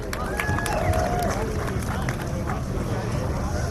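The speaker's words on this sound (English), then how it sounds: "everybody, give him a cheer" An outdoor crowd at a rally starting ceremony in Wales cheers for driver Sean Johnson, a continuous roar of voices and whistles with scattered clapping, fairly near and steady throughout.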